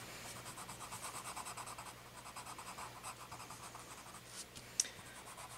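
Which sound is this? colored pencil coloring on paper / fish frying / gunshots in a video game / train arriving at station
colored pencil coloring on paper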